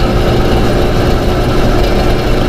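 Vespa scooter engine riding along the Bali Mandara toll road, a loud steady drone mixed with rushing wind and road noise, continuous throughout with no talk.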